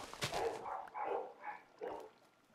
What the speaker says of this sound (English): my dogs were kind of barking